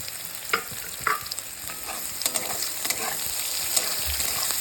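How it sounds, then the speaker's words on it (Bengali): Chopped green chili, onion and garlic frying in oil for a dhaba-style egg tarka, giving a steady sizzle with a few sharp stirring scrapes and pops up close. "দিয়ে আমি একটু ভালো করে ভেজে নেব"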